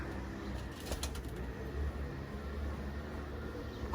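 Pigeons flying high overhead outdoors, with faint, distant cooing and a brief flutter of wings over a steady, noisy background hiss.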